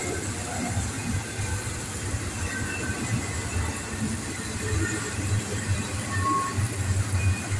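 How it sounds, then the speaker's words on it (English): Long freight train loaded with Ocean Network Express shipping containers rolls past close by, a steady low rumble and rattle of wagons with occasional wheel squeals, continuous throughout. "There is a whole lot of them Ocean Network Express trains there."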